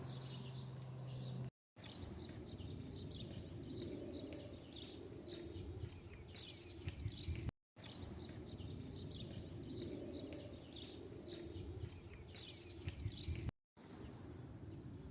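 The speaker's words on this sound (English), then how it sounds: "So quiet in this area, except for the birds." Birds chirp and call through a quiet outdoor hiking area at Anaheim Coves, with scattered high tweets repeating over a steady low background murmur, moderately distant and continuous.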